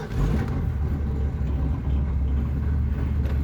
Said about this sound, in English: I'll fire the car right up